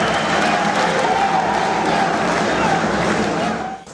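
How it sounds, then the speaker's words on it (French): A thunderous crowd applause fills an indoor sports hall as outgoing and incoming presidents enter, dense, loud and continuous, with cheering mixed in before it fades at the end. "c'est un tonnerre d'applaudissements qui les accueille"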